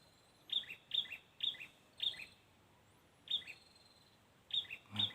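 Ciblek gunung birds call in repeated short, sharp chirps, about seven in a run with a pause in the middle, clear and fairly close against a quiet outdoor background with no voices.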